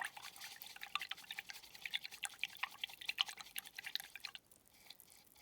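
Water dripping and trickling while a flat paintbrush is washed out, a quick irregular patter of small drips that runs steadily and then thins out near the end, close and alone.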